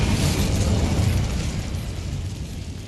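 The Incendio fire spell is cast in Hogwarts Legacy, a dense roaring burst of flame that starts loud and slowly fades over a few seconds with no talk.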